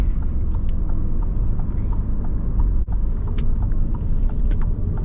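A 2021 Alfa Romeo Giulia Ti engine drones as a deep, steady, loud rumble while the car pulls out of a corner under full throttle, with faint light knocks scattered over the cabin noise.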